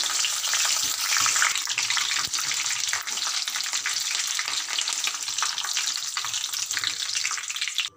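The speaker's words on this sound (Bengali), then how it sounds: "এবার এই তেলের মধ্যে এই ছাঁকনিটা দিয়ে দেব, দিয়ে প্রথমে আমি কারি পাতাগুলো ভেজে নেব।" Curry leaves frying in hot oil in a wok, set in a strainer, make a loud, steady crackling sizzle with no voices.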